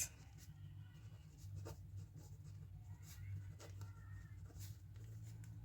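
Pen writing numbers and notes on paper during a class 10 maths lesson on sphere diameters: faint, steady scratching strokes with soft taps over a low background hum.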